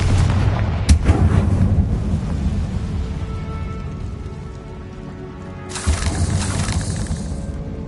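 A Confringo fire spell explodes in the Hogwarts Legacy video game: a sharp, loud blast near the start and a second bursting impact a few seconds later, both over a low rumbling game ambience.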